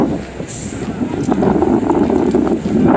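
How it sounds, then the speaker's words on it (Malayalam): Strong, cold wind blows at a beach in Barcelona during a festival, buffeting the microphone with a steady, loud, rushing roar that surges a little in places. "ഈ കാറ്റാണ് പ്രശ്നം ആക്ച്വലി കാറ്റില്ലെങ്കിൽ ഇത് വലിയൊരു തണുപ്പല്ല ഭയങ്കര കാറ്റ്"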